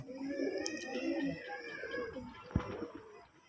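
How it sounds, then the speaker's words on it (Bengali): Pigeons coo softly in soft repeated calls close by at a pigeon farm, with a sharp knock partway through and faint background rustling. "কবুতরগুলো দেখতে থাকেন এর মধ্যে দেখতে পাচ্ছেন কালো কবুতরগুলো"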